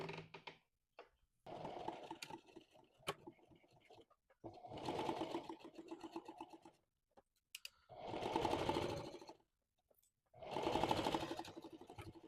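Home sewing machine stitching the lining onto a bodice in several runs of steady, fast, whirring stitches, each burst lasting a couple of seconds with short pauses between, up close and with no talk.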